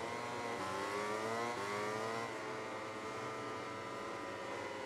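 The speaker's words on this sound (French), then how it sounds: "Tom Sykes avec sa BMW." A BMW superbike engine revs high and steady in the SBK 2020 racing video game at the Aragon circuit, its pitch climbing through gears and shifting as the bike pushes through corners, loud and continuous.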